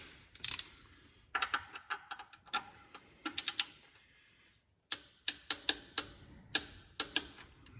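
A torque wrench tightening the oil drain plug on a 2005 Chevrolet Silverado gives crisp ratcheting ticks in short bursts, with a few quiet pauses between runs of clicks.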